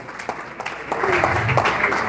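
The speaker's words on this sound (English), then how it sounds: "Give another round of applause, guys, for Robert Hockley, 492 County CEO." Audience applause at a Juneteenth scholarship gala swells from sparse claps into fuller clapping, quiet and diffuse, with some talking mixed in.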